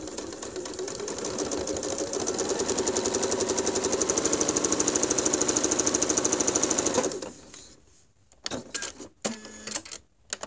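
A sewing machine piecing quilt squares runs at a steady, rapid stitching rhythm for about seven seconds, then stops, followed by a few faint handling clicks and bumps.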